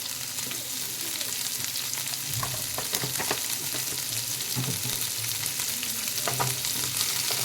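Soybean chaap frying in ghee, a steady dense sizzle with intermittent scraping and stirring knocks from a spatula, close and continuous throughout with no talking.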